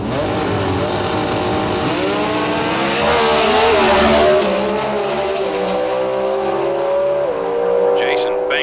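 Competition eliminator drag racing car making a run through the gears, engine howling loudly with rising pitch and distinct shifts, then fading toward the finish; an announcer talks over it.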